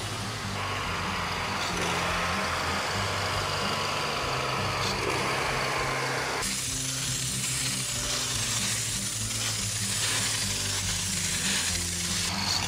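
A 30 horsepower pressure washer motor pumping 12 gallons a minute while cleaning a painted tile roof, a steady loud engine drone with hissing spray that shifts in tone partway through, with no talk.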